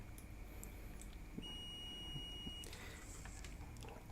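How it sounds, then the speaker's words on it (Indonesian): An analog/digital multimeter in buzzer continuity mode emits a single steady high-pitched beep lasting about a second as its probes touch, faint against a quiet background hum. "ketika probe-nya disatukan itu akan terdengar bunyi buzzer"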